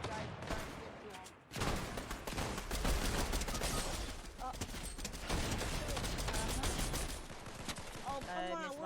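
Gunfire in a multiplayer shooter game, rapid bursts and rattling volleys of shots fired nearly nonstop, loud and close, with players talking over the fighting.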